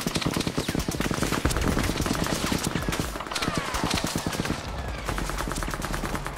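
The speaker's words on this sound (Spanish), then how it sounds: "Para disparar ahora, rápido." Gunfire in a Spanish-language war film, with rapid bursts of machine-gun fire and shots crackling densely and loudly throughout, mixed with battle noise and no clear speech.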